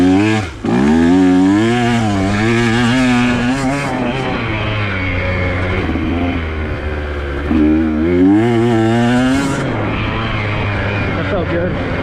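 Dirt bike ridden on a muddy, sandy red trail: a close, loud engine whine that rises and falls with repeated revving and throttle changes, continuous throughout, with a voice occasionally over it.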